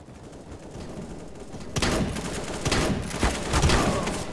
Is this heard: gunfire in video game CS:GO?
yes